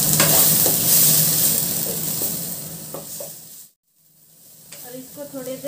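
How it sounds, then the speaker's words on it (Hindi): Masala with turmeric powder sizzles in a hot pan while a spoon stirs through it, a loud close frying hiss that drops away briefly to near silence before the sizzle and scraping resume. "और इसको थोड़ी देर भूनने दें।"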